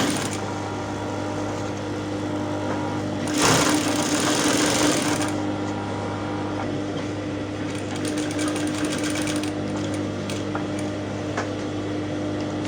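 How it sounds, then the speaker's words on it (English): A sewing machine stitches a seam with black thread, a steady close mechanical hum that runs throughout, with a louder burst of fabric rustling and handling partway through. "I'll put it under my machine and I'll sew with 1/2 inch"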